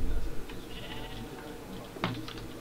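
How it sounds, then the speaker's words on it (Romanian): A blue sheep in a Minecraft-style mining game bleats in a few short, faint calls over low background noise, with a sharper sound near the end. "Uite-o oaie albastră."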